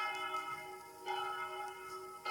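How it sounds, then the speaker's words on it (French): A church bell rings in the bell tower of Notre-Dame des Sables, its sustained metallic tone humming steadily with a fresh strike partway through, heard up close inside the belfry. "Donc voilà, la cloche qui sonne, c'est celle-là."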